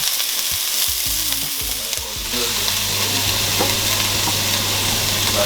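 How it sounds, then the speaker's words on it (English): Onion seeds dropped into hot oil, with a few low knocks and clatters of the pan and spoon before a loud, continuous sizzle and crackle of frying that fills the rest of the clip. "my dad likes onion seeds, so I'll be putting in some onion seeds"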